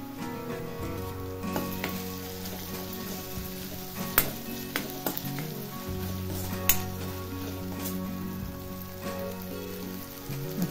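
Ginger-garlic paste sizzling in a pan for dhaba-style paneer bhurji, a steady close crackle like rain on a surface, with occasional sharp utensil taps and no speech.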